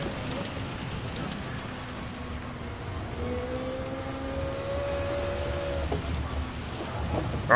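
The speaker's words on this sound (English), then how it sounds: "That is a lot of rain" Heavy rain in a Gran Turismo 7 Gr.3 race at Circuit de Spa, a steady hissing downpour spray under a car engine droning and shifting pitch nearby.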